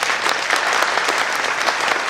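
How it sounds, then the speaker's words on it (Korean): Audience applause fills a hall at an economic forum on BRICS and trade, a steady dense clapping held at even loudness throughout with no talk over it. "통역가 분들에게 박수 한 번 더 부탁드리겠습니다"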